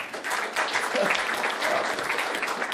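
An audience at a governor's business announcement applauds, a dense, steady patter of clapping that fills the room throughout.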